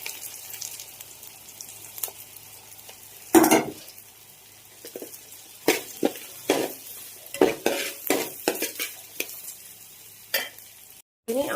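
Small shallots fry in a pan under a faint steady sizzle while a spoon scrapes and stirs in irregular bursts, some sharp clinks against the metal, close by and growing busier toward the end. Nobody talks.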